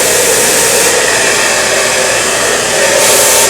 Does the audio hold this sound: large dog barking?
no